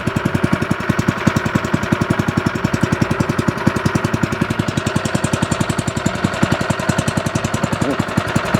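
A small motor, just started on half choke, runs close and loud with a rapid, even chugging beat of regular firing pulses over a buzzy mechanical rattle, steady throughout.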